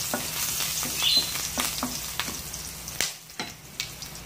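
Ginger sizzles and fries in hot oil as a utensil stirs it with scraping clatters, close and steady, the crackle easing slightly toward the end, while cooking pininyahang manok.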